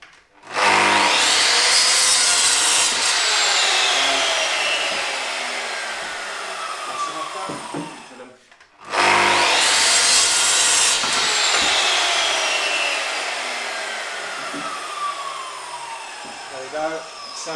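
Power saw cutting wooden pieces for a solar hot water coil box frame, two long whining cuts each starting with a sharp rise and fading as the blade finishes, loud and close, separated by a brief gap.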